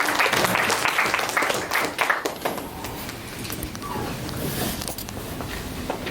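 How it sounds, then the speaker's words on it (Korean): A church congregation at an installation service applauds, a burst of clapping that is loud at first and then tapers into thinner, scattered claps. "우리 박수 한번 드릴게요"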